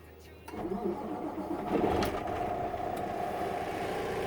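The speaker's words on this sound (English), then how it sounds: "as I'm turning the vehicle on" A truck engine cranks and catches, rising into a steady rumbling idle up close, with a brief rev partway through.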